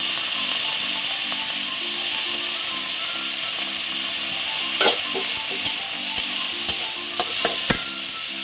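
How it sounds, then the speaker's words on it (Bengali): Vegetables such as cauliflower, carrots, peas and beans frying in a pan, a constant soft sizzle with a low hum beneath and several sharp scrapes and clicks of a stirring utensil toward the end, no speech. "সবজিগুলো ভেজে নেব।"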